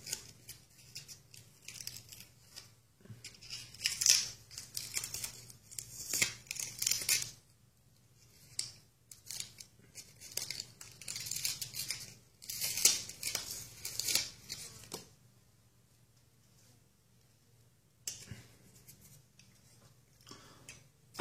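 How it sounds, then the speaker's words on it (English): Layers of painter's tape peeled off a game controller, giving close, loud bursts of ripping and crackling that come in several long pulls separated by quieter pauses, with no talking. "let's go ahead and keep on peeling off all these tape layers"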